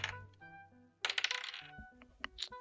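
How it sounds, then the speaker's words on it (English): Dice dropped onto a table during a tabletop game session, a quick scatter of light clattering impacts in the middle, with a few sharper ticks after, against quiet background tones and no talk. "And I dropped that dice."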